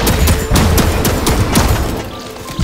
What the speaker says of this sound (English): He's being shot by the briefcase turret.